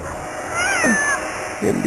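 A cat in a radio drama gives a drawn-out rising and falling yowl followed by a shorter second cry, close and fairly loud, with voices speaking around it.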